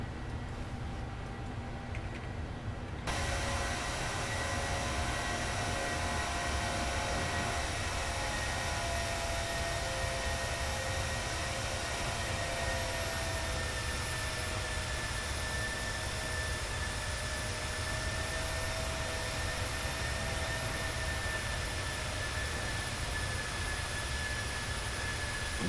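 Boeing 737-700 jet engines in Microsoft Flight Simulator spool up after a quiet start into a loud, steady roar with a high whine, holding constant for the rest of the stretch with no talking.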